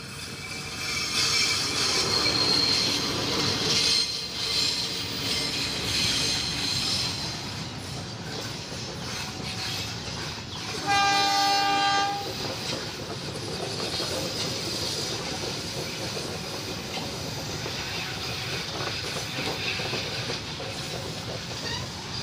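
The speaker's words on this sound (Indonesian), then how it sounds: "Ini dia kawan Dewa dengan 8 gerbong 1 lokomotif sesi 203." A local Indonesian passenger train with one locomotive and eight carriages passes at a rail junction, with a steady rumble of rolling wheels, a squeal of wheels and a short horn blast midway, continuing alone.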